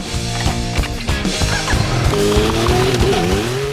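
A tire squeals against pavement, a thin rising-and-falling screech over a rumbling engine and rolling noise, fairly close.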